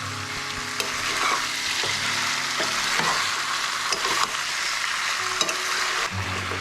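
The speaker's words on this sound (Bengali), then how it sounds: "আদা রসুনের যে পেস্টটা রেখেছিলাম সেটা অ্যাড করে আবারও মিশিয়ে নেব, মাংসের সাথে মিক্স করে নেব" Chicken mixed with ginger-garlic paste is stirred in a hot pan, a continuous sizzle broken by repeated scraping and clacking strokes of the spoon against the pan.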